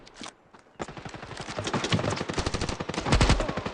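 Rapid bursts of gunfire from the Standoff 2 shooter game, dense and loud with sharp repeated cracks and short pauses, interleaved with footsteps and game effects.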